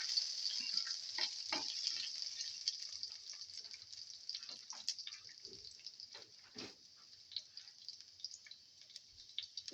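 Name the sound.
cloves, caraway and salt frying in a pan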